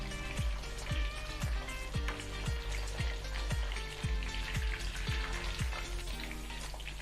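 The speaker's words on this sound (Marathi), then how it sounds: "याचा कलर चेंज होतपर्यंत आपल्याला या फोडी तळून घ्यायच्या आहे" Jackfruit pieces frying in hot oil for a spicy curry, a steady loud sizzle and crackle throughout with regular soft thumps beneath, no voices.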